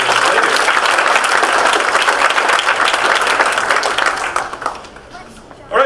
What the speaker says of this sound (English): give our community group another big round of applause for them